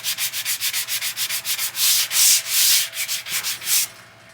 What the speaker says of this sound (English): I'm going to use my sanding block, and I'm just going to try to sand these edges just a little bit.